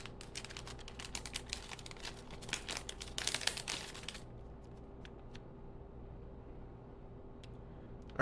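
Tissue paper from a Polish military ration pack crinkles in quick, dense rustling bursts at close range for about four seconds, then goes quiet except for a few faint ticks.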